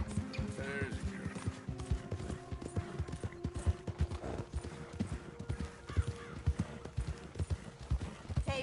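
Horse hooves clip-clop in Red Dead Redemption 2, a rhythmic run of close, distinct hoofbeats with a brief whinny near the start and faint background music underneath.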